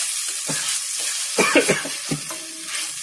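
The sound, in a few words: chili paste frying in a pan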